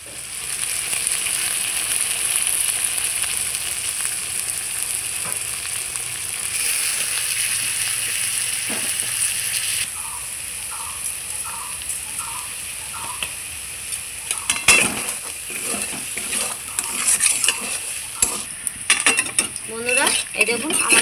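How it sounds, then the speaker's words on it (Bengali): Kochur loti (taro stolons) cooking uncovered with posto and mustard spice paste, a steady close bubbling simmer with occasional utensil clinks and stirring scrapes toward the end. "এবার কিছুক্ষণ ফুটে একদম গা মাখা হয়ে নামিয়ে নেব।"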